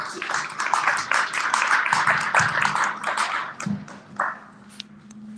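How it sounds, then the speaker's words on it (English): An audience at a Palmer Chamber of Commerce event gives a round of applause, a dense burst of nearby clapping that fades into scattered claps by the end, with a faint voice and hum underneath. "Please join me in giving him and everybody else a round of applause"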